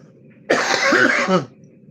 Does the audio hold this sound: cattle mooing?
no